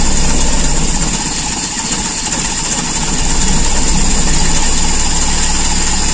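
A Toyota Kijang carburetor engine idles loudly and close by, a steady mid-pitched drone with a fast even pulse and slight vibration that barely varies.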